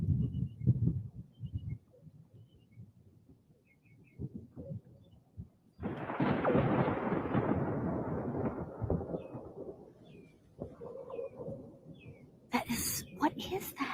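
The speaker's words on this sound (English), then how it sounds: "Anybody have any clue what that noise is in the thunder?" Deep thunder rumbles and rolls across a Florida sky, swelling into a long loud roar carrying an odd unexplained noise, with a voice talking over parts of it and faint birds chirping in the background.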